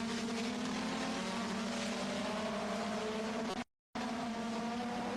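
1987 Formula 1 race cars, a McLaren and Williams, roaring at high revs in a continuous engine drone with a brief cut to silence near the end, no talking.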